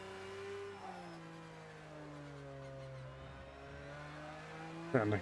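A Porsche GT3 race car in the video game Project Cars, its engine drone rising and falling through gear changes as it accelerates, with a brief sharper burst near the end.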